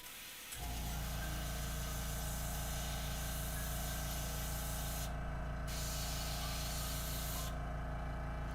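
An airbrush for miniature terrain painting sprays in a continuous loud hiss over a steady mechanical hum, starting abruptly after a short quiet moment and running unbroken with slight dips in the high hiss.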